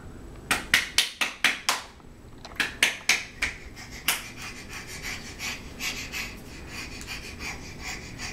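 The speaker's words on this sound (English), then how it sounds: "Wearing yourself out clapping." A small child claps her hands in a quick burst of sharp close claps, pauses, then claps in a second run that slows and fades into softer, scattered pats.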